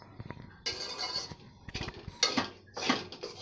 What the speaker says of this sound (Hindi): यहाँ सिम पे ही हम चना दाल को भूनेंगे।